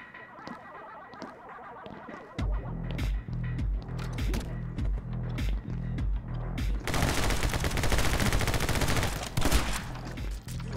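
Shotgun blasts in the action game My Friend Pedro, with repeated heavy shots over a pounding beat that grow into a dense, loud barrage in the second half.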